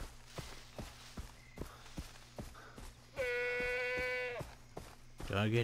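A goat in Far Cry 3 lets out a loud, wavering bleat, followed by a second shorter cry, over soft in-game footsteps and faint background hum.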